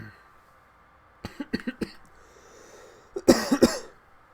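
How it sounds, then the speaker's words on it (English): A person coughs in a few short bursts, then a louder cluster of harsh coughs follows after a brief pause, close and clear against a quiet background. "Damn, I'm coughing."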